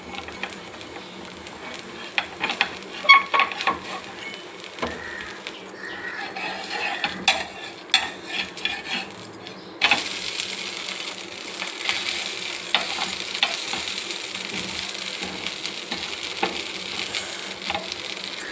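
Rava dosa batter frying in a little oil on a large pan, giving a steady faint sizzle with scattered light clinks and scrapes, growing brighter and hissier partway through.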